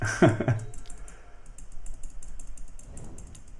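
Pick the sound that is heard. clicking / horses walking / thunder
clicking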